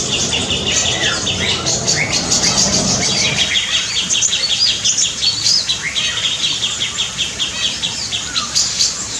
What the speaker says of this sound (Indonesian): Burung cicak jenggot ini benar-benar burung paling gacor nih